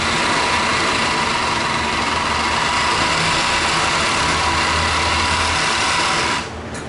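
Overlock sewing machine stitching along the edges of a skirt and its waistband for a pareo, a loud, continuous high-pitched motor whir with rapid stitching chatter that runs steadily and cuts off near the end.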